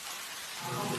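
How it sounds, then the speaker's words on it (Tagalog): Heavy rain pours in a dense, steady hiss, and a deeper low rumble like thunder swells in near the end of the brief stretch. "biglang bumuhos ang malakas na ulan"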